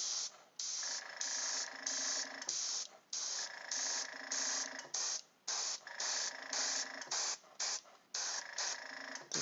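Airbrush spraying green paint lightly onto a Mythic Battles Pantheon miniature: steady hissing bursts that start and stop in short repeated pulses, close and fairly quiet, with no talking.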